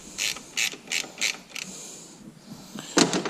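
A ratchet and socket turn a bolt near the alternator during power steering work on a 1998 Subaru Forester, making several quick rhythmic bursts of clicking close up, followed by a slower pause and another burst.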